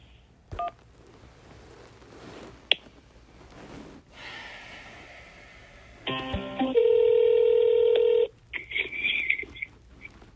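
Touch-tone keypad presses in an automated phone menu: a couple of short clicks, then a long steady dial tone and a held keypad tone, followed by brief chirpy beeps.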